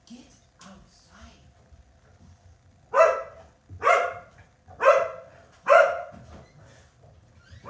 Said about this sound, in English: Does anybody else's dogs literally bark at birds?